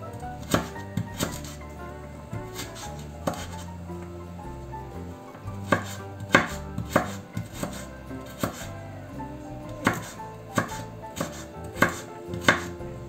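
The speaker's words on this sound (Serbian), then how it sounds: "Pošto smo iseckali sitnu šargarepicu" A knife chops carrots finely on a board for a chicken ragu sauce, giving crisp, close cuts that come in irregular bursts with short pauses between.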